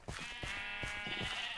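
Sheep bleating in Minecraft, a few short wavering bleats in quick succession, clear and alone with no talk over them.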